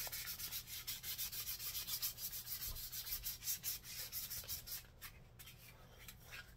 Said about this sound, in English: And we'll just sand the whole handle real quick.